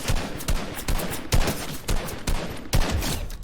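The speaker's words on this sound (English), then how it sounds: "You can see how accurate my long range AR shots are." Assault rifle fire in the Fortnite video game: repeated bursts of shots at a steady rhythm, loud and close, with no voices over it.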